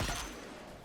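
A single sharp shot from the Arbalest weapon in Destiny 2, a loud close burst at the start that tails off quickly into a fading ringing decay, with no talk.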